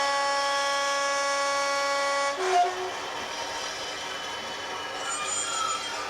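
A model railway Class 40 locomotive sounds a sustained two-tone horn for about two seconds, close and clear, followed by a running rumble and a brief higher toot near the end.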